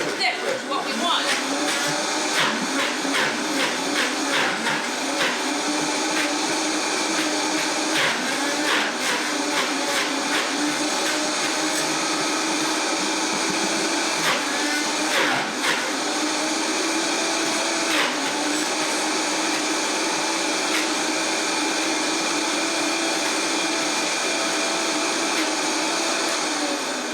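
A blender motor whirs loudly and continuously while churning a thick frozen berry smoothie with spinach and almond milk, the pitch wavering as the load shifts, and a voice talks faintly beneath it.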